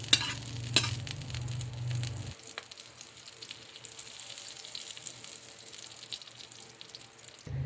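Pancake batter frying in a pan, with a brief stronger sizzle at the start that drops off to a soft, steady hiss, plus a faint clink or two near the beginning.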